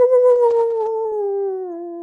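A person's voice imitates a barking dog, drawing out a long, wavering howl-like tone that slowly drops in pitch, heard alone and fairly loud.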